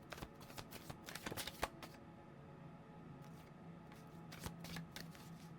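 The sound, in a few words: shuffling tarot cards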